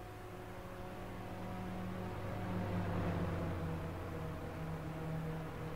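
A race car engine in an IndyCar racing video game, accelerating in a steady, droning whine that holds at a constant loud level and swells slightly midway.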